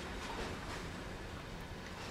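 A Class 66 freight locomotive reversing in Train Sim World on the Great Western line, a steady low rumble of rolling stock with a faint rail clatter, continuous and even.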